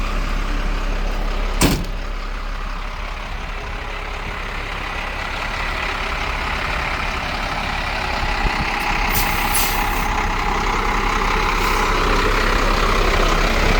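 Premier Deicer MT35P75 deicing truck pulling away for a short drive, a low steady diesel rumble up close with a sharp air-brake hiss near the start and a brief bump later.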